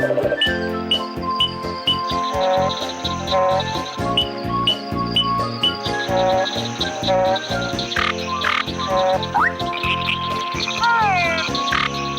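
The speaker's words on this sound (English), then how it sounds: "the frogs are here to make their froggy sound" Frogs croak in a steady, busy chorus of rhythmic, close calls, mixed with tinkly chirps and bright warbling notes over several seconds.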